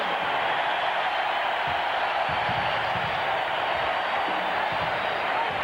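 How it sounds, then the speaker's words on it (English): A college basketball arena crowd at a Kentucky versus Tennessee game roars with a continuous, even wall of cheering at steady volume, a broad distant hum of many voices with faint thumps beneath. "Listen to the crowd for Carlos Groves"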